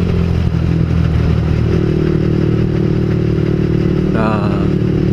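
A motorcycle on a Sunday group ride to Banjarnegara drones steadily at close range, its engine note holding constant with a brief rising whine near the end.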